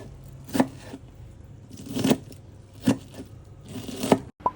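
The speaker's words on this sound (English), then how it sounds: "Chef is chopping some onions." A chef chopping onions with a knife on a board for egg fried rice, about five distinct, unhurried cuts spaced roughly a second apart, close and clear with no talking.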